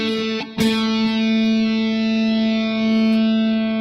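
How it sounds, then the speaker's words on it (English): A heavily saturated electric guitar note drenched in reverb rings out loud and sustained, with a sharp pick attack near the start and a long, steady, harmonically rich tail that holds for several seconds. "getting a good tone that has a lot of reverb and is real saturated"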